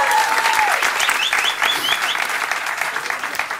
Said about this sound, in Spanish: Fuerte aplauso para Agustín.